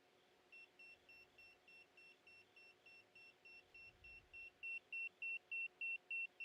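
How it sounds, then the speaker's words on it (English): An electromagnetic field meter beeps in a steady run of short, evenly spaced high tones over a faint background hum, with the beeps growing noticeably louder and more insistent toward the end. "You can hear it beeping."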